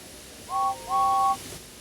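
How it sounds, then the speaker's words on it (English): A steam engine whistle from a toy-train game, given as two short paired tones: a brief blast, then a longer held one, loud and clear over a faint hiss. "Gordon whistled goodbye as he watched James puff away."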